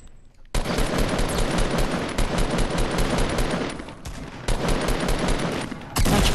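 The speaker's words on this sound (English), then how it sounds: "Uh-oh, your gunshots." Sustained automatic gunfire in the video game Fortnite, loud and dense bursts rattling nearly continuously for several seconds, with a brief dip before the shooting resumes hard at the end.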